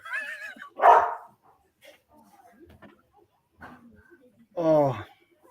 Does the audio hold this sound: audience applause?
no